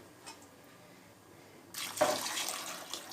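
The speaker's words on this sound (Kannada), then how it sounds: "ಈಗ ನಾನು ನೀರು ಸೇರಿಸ್ಕೊತೀನಿ ನೋಡಿ" Water is poured into rice for Hoskote-style dum chicken biryani, a sudden close splashing gush that starts after a quiet moment and keeps running to the end.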